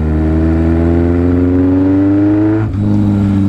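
A Yamaha XS1100 motorcycle engine with a big bore kit and performance head runs steadily at close range, its pitch slowly climbing as it revs, then dropping briefly and settling back to a steady idle.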